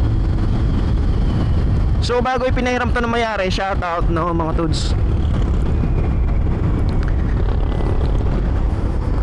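A MotorStar EasyRide 150n motorcycle engine runs steadily at idle, a low continuous putter with wind noise, while someone talks over it in the middle.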